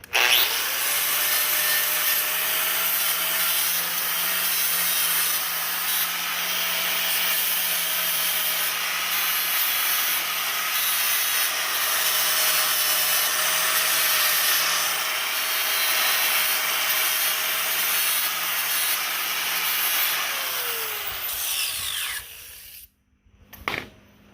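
An angle grinder fitted with a 60 grit flap disc bevels the edge of a steel channel during a 1959 Willys Jeep CJ-5 frame repair, a loud continuous high whine and rasp held for about twenty seconds before spinning down.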